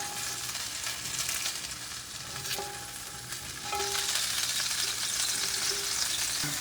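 Sausages frying in a pan alongside steak, a dense continuous sizzle and crackle heard close up, steady throughout with a few faint tonal clinks and no speech.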